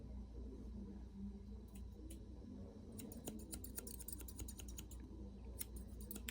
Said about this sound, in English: Got my trusty hair cutting scissors